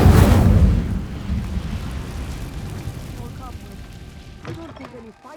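A fiery Incendio spell erupts in Hogwarts Legacy, a loud burst of flame that roars up at once and then fades into a long crackling rumble, with faint game chimes near the end.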